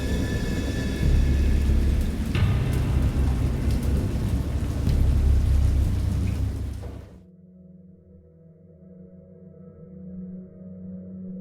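Heavy rain pours down steadily while thunder rumbles under it, loud and close. Partway through, the downpour cuts off and leaves only a low, quieter rumble and hum.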